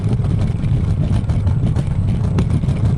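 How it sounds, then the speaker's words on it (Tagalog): Loud, constant motor drone of a scooter on the move along a biking and jogging path in Dubai, buffeted by wind rumble, filling the whole stretch with no voices. "Ang ingay talaga ng scooter ko guys, I'm so sorry."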